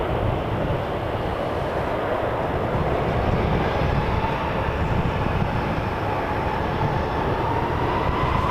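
An American Airlines jet approaches Toronto Pearson Airport, a loud, continuous engine roar with a deep rumble and a slowly rising whine, steady throughout with no voices.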